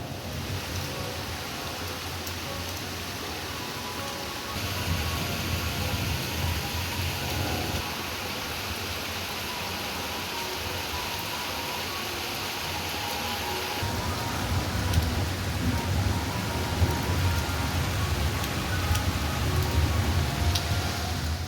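Steady rain falls outside a home under a dark, heavy sky, a continuous broad hiss that swells a little louder partway through, with no talking.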